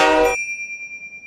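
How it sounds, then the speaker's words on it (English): A sleigh bell gives one bright ring, loud at first, then cut short, leaving a thin high tone that decays with a faint pulsing shimmer. "Pro tip on ringing a sleigh bell, or really any bell, don't hold it by the bell part."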